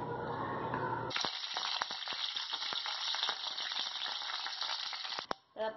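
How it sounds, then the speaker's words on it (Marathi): Mustard seeds and curry leaves hitting hot oil in a kadhai, a bright sudden sizzle that settles into steady crackling with scattered sharp pops, close and fairly quiet. "आपली राई आणि कढीपत्ता घालून झालाय, तडतडलंय व्यवस्थित."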